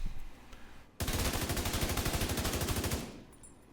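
A short full-auto burst from an assault rifle in the video game The Division 2, about two seconds of rapid, even, close and loud shots that start abruptly and then stop into quiet background.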